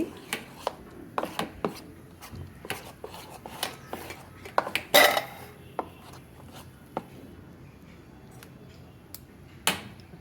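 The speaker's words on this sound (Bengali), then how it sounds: "এটা ভালো করে মিক্সড করে নিচ্ছি" Pancake batter being mixed in a bowl for breakfast, heard as irregular sharp taps and clicks of the utensil against the bowl with soft scraping between, loud and close.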